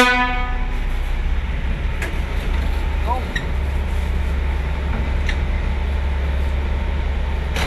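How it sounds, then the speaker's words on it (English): A work train runs through the Seymour Capilano underground tunnel, making a loud, steady low rumble and rattle throughout, with a brief tonal horn near the start and occasional metallic clanks. "This train ride is going to take us approximately 20 minutes."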